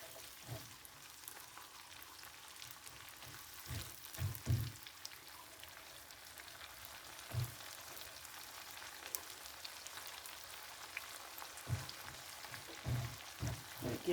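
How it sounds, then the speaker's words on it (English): Shrimp and onions fry in a pan for ramen, a faint steady crackle with scattered small pops throughout and no voices. "The shrimp and the onions gonna cook."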